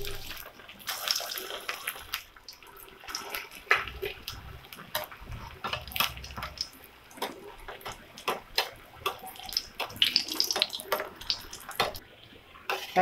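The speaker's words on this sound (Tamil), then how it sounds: "இதை வந்து பொரிச்சு எடுத்துடலாம்" Sweet corn bonda deep-fry in hot oil in a kadai, a busy, bubbling, crackling hiss of small pops and spits that keeps going throughout, close up and alone.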